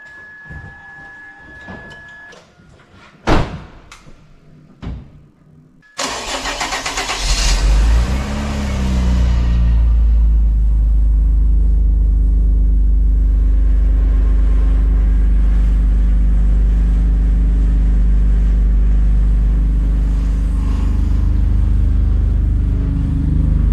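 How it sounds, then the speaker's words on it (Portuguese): V6 24-valve car engine from a 1980s–90s popular car, cold, heard nearby: a few clicks and clunks, then the starter cranks and the engine catches into a loud, steady low idle that keeps running without revving. "Vamos ouvir o som de um V6 24 válvulas"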